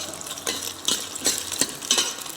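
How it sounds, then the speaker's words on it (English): Brown sauce stirred in a pan with a utensil, giving soft repeated scraping strokes about every half second over a faint sizzle, close and fairly quiet with no talking. "Keep stirring so it will not stick at the bottom and burn"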